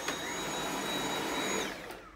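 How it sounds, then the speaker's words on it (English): A Dyson V8 cordless vacuum cleaner runs on a throw rug with a steady, loud motor drone and a high whine that holds evenly throughout, with no voices. "So you can actually vacuum the rug without it getting all bunched up."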